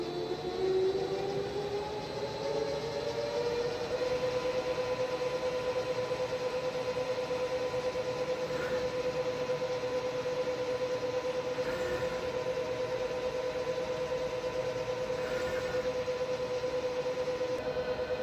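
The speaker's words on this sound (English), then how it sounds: "Slitter scorer machine changed order 1 to 4 seconds." A corrugated board slitter scorer on a production line's dry end changes order, with a steady loud mechanical drone and a pitch that rises and settles early on, running continuously over broadband machine noise.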